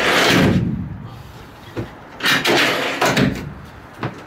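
A collapsible shelf in a trailer is opened and closed, giving a few sharp knocks and clunks spaced irregularly after an initial louder rush, fairly close and with no talking.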